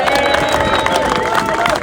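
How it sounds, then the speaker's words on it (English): A crowd at a farmers' rally in Liverpool claps and cheers, a dense wash of applause with voices mixed in, steady and close for the whole short stretch. "Give him a warm round of applause."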